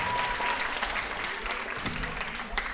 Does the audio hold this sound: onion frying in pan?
no